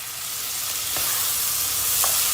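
Fresh tomatoes hit hot frying tomato paste in a pan for a Turkish vermicelli soup, giving a loud, continuous hissing sizzle with a couple of faint clinks of stirring.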